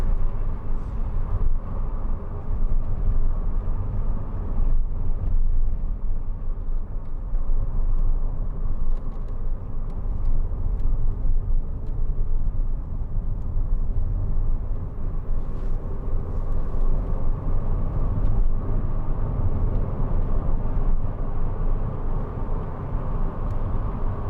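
A 2004 MG TF 1.6 two-door roadster drives steadily, its engine a continuous broad rumble with road and wind roar holding level and fairly loud throughout, with no talking.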